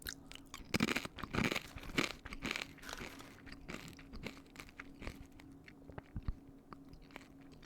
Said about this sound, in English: I'm gonna try a bit of it with the cheese now.